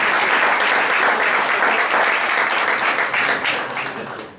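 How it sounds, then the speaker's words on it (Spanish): An audience at a Spanish cultural association's round-table presentation breaks into sustained applause, dense and close, holding steady before tapering off at the end. "Un aplauso, por favor."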